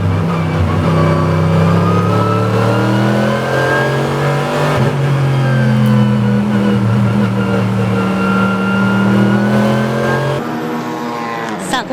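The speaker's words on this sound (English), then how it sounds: "33号車クラフトバンブーレーシングメルセデス AMG GT3 がトップに立ちます。" A Mercedes-AMG GT3 race car, number 33, engine roaring at full throttle on track as it overtakes for the lead, steady loud revving with shifting pitch throughout, cutting off abruptly near the end.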